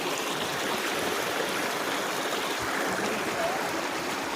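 A hill stream flows among forested hills and paddy fields with a steady, broad rushing wash that holds constant throughout.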